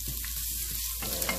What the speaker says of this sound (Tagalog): Mainit na yung mantika natin, so ilalagay ko na ang ating ginger.